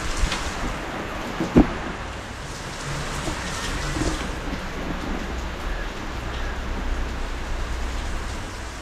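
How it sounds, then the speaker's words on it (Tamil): Steady rain falls outdoors in a village garden where chrysanthemum plants are being potted, a continuous hiss of drops with a single sharp thump near the start. "எங்கள் ஊரில் நல்ல மழை மழை பெஞ்சிட்ருக்கு"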